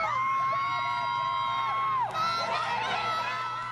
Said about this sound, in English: Those are really boos.